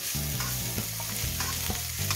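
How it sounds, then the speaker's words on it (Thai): Rice stir-fries with carrots and Chinese sausage in a hot pan, giving a dense, close sizzle with quick spatula scrapes and taps and a low steady hum underneath. "ผัดให้ แครอทสุกสักเล็กน้อยแล้วก็กุนเคียงสุกสักเล็กน้อยนะคะ"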